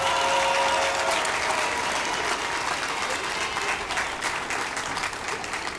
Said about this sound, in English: give all of these young people that made it to the end a round of applause